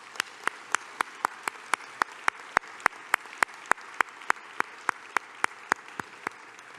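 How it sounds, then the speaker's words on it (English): A slow, steady run of single claps at an awards ceremony, evenly spaced sharp hits about every third of a second, fairly close and isolated rather than a full crowd roar. "Let's give them a round of applause."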